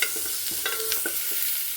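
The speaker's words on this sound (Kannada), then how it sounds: "ನೆಕ್ಸ್ಟು ಇವಾಗ ಮೊಳಕೆ ಕಾಳು ಹಾಕ್ತಿದ್ದೀನಿ." Sprouted beans go into a frying pan with a soft sizzle and a few quick scraping, stirring knocks, brief and moderately close.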